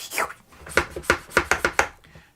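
Fluval 207 canister filter primer pumped by hand, a series of about eight sharp plastic clicks and thumps in an uneven rhythm, close and fairly loud with no talking.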